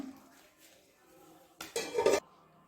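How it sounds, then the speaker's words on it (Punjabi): Homemade popcorn tipped from a pot into a bowl, a short burst of rattling and clattering pieces lasting about half a second, close and fairly loud after a quiet stretch. "ਹੁਣ ਆਪਾਂ ਇਹਨੂੰ ਇੱਕ ਬੋਲ ਦੇ ਵਿੱਚ ਪਾ ਲੈਨੇ ਆ"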